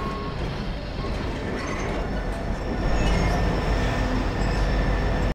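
A subway train rolls steadily in Half-Life 2, its broadband rumble and rattling wheels continuous and close, swelling a little louder partway through with faint squeals riding on top.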